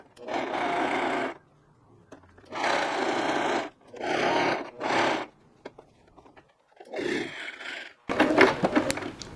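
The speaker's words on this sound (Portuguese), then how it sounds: "com a agulha dentro e volta a peça costurando e continua costurando" A home sewing machine stitches a blouse in several bursts of whirring motor noise, a second or so apiece, with brief pauses in between and faint handling sounds near the end.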